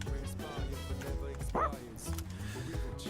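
A dog barking in the video game Persona 3 Reload, a few short yips and woofs mixed with game music and sound effects, while a voice talks alongside.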